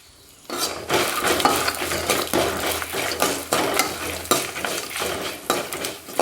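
Dried chillies, white ginger and dry ginger are dry-roasted in a pan, stirred with quick, rhythmic scraping strokes and a faint sizzle, close and loud with no talk.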